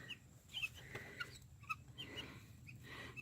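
Homestead guinea fowl give faint, scattered clucks and chirps over a low outdoor rumble. The calls come in short, irregular bursts from a little distance, with no voices.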